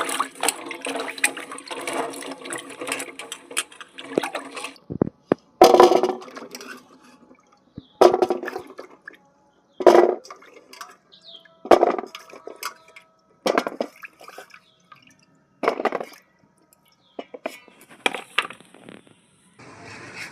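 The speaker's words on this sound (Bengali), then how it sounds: "আমলকিগুলো ভালো করে ধুয়ে নেব" Amla gooseberries are washed in water for a pickle: repeated splashing, swishing bursts come close by, separated by short quiet pauses, with a brief rush of water near the start.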